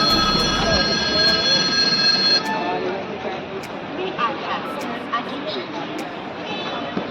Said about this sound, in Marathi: फायनली ट्रेन सुटायची वेळ झाली आहे